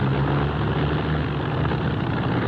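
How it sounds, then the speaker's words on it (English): Steady droning aircraft engine sound effect in an old radio drama, loud and continuous with a low rumbling hum and no pauses. "I don't like the sound of that engine."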